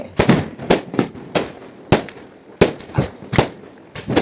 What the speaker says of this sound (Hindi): इधर तुम थोड़े पटाखे के मज़े लो, मतलब इतने कब से बज रहे हैं भाई,